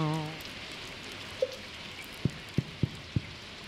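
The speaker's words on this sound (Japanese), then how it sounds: "雨だと水やりしなくていいから、その分は楽になるね。" Rain falls in Stardew Valley on a summer farm day, a soft steady patter under a faint game background, broken near the end by a few short separate thumps and one brief chime, with no talk.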